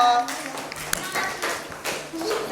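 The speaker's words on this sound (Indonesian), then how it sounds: "Tepuk tangan lagi untuk kelompok" A classroom or training group claps for a group that has presented, giving a short burst of many hands clapping at close range while people talk.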